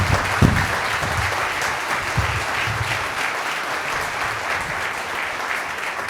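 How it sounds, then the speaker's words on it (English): Audience applause fills a Christmas concert hall, a steady, dense clapping from a large crowd that holds evenly throughout with a slightly stronger burst near the start. "And the maestro himself, Mr. Leposki, just needs a round of applause."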